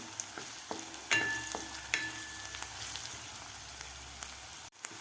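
Ginger garlic paste and chopped onion sautéing in a pan for a village-style tuvar bean amti, a steady crackling sizzle with several sharp utensil scrapes and clinks, close and fairly quiet, no voices.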